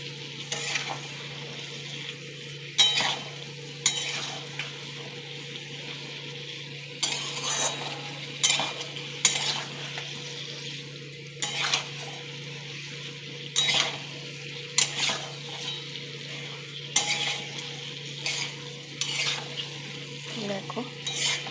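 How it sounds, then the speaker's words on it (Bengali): Potatoes and pointed gourd fry in a pan with a low steady sizzle, broken by repeated scraping stirs of a spatula against the metal every second or two, close and moderately quiet. "একটু কষিয়ে নিচ্ছি"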